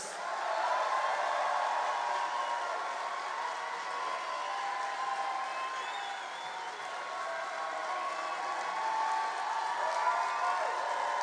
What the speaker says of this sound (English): a huge New York round of applause for the one and only Senator